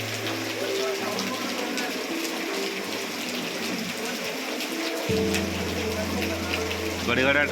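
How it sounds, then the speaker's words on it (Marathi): Steady rain patters down with a broad hiss in Lanja, Ratnagiri, Konkan, a low mechanical hum underneath that grows louder partway through. "इथे दारात बसून कोकणामध्ये बसून पाऊस चालू झाला आहे"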